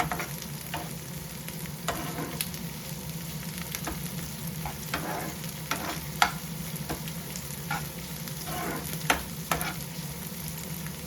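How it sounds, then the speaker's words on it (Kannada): Chopped carrots frying in a pan for restaurant-style hakka noodles, a steady close sizzle with regular spatula scrapes and taps throughout, no voices. "ನಂತರ ಕ್ಯಾರೆಟ್ ಫ್ರೈ ಆಗಲಿ."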